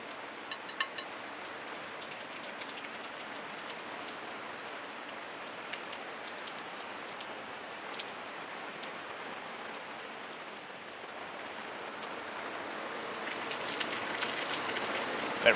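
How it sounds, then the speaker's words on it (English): Steady rain comes down around a small outdoor shelter, a dense, even patter of drops on surfaces that holds throughout and grows slightly heavier toward the end, with no talking. "Listen to that rain coming down."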